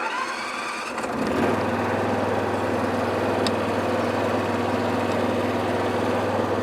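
The engine of a Husqvarna RC320 Ts AWD ride-on mower with auger collector starts after a brief quiet moment, then settles into a steady, even idle hum that runs to the end with no voices.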